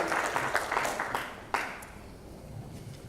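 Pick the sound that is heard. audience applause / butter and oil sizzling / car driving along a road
audience applause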